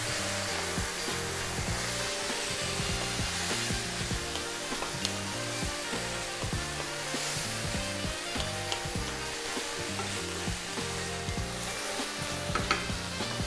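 Chicken fried rice with soy sauce is stir-fried over high heat, giving a loud, steady sizzle throughout along with frequent rhythmic scraping and tossing of the utensil against the pan, and no talking.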